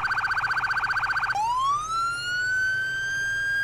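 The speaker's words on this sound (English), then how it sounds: "we'll change up the siren a little bit" An emergency vehicle siren in the Into the Flames firefighting game switches from a rapid pulsing yelp to a rising wail that climbs and holds steady, clear with no talking.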